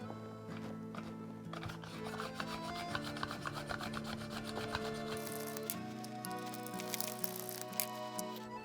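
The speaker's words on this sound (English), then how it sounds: "This is my 2-in-1 slicer and microplane by Joseph & Joseph." Ten cloves of garlic are grated on a Joseph & Joseph 2-in-1 slicer and microplane, making quiet, close, rhythmic rasping strokes over a faint tonal background.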